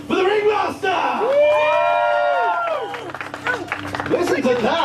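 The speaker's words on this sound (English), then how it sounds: "a big round of applause for the Ringmaster!" Crowd at the opening night of a Halloween maze event aboard the Queen Mary in Long Beach cheers, whoops and claps loudly for the circus ringmaster, the roar swelling and holding for several seconds with voices shouting over it.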